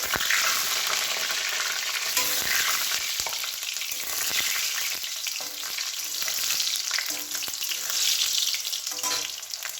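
Mushrooms for a chilli mushroom dish fry in hot oil in a pan, a steady, dense sizzle and crackle that runs loud and unbroken throughout, with no talking.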